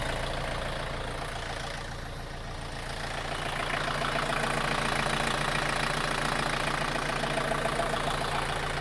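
A 51-horsepower tractor with its original engine and original pump runs at idle close by, a steady, dense diesel chug with a constant low hum, loud and unbroken with no talking.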